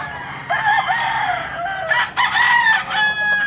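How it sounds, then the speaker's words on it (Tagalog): Broodcock chickens crowing loudly and close by, two long drawn-out crows one after the other with background clucking from the flock. "So ito guys, ito yung mga broodcock ni Conce Edwin"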